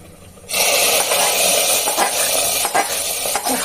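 Hot tempering poured into a pot of vegetarian khichuri bursts into a loud, steady sizzle after a quiet half-second, with faint stirring and utensil clinks running through it.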